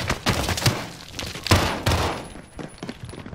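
Shotgun fire in a Call of Duty: Modern Warfare multiplayer match: several heavy, close blasts at irregular intervals, mixed with other game noise.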